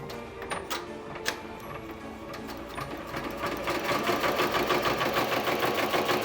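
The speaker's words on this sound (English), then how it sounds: "Did you know that your machine can do buttonholes?" Embroidery sewing machine stitching a Halloween trick-or-treat bag design, a steady rapid mechanical ticking that starts lighter and grows louder and denser, close and alone with no talk.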